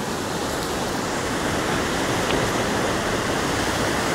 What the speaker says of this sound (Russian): Воды очень много. Вон тот камень давно уже под водой. Большая вода прет.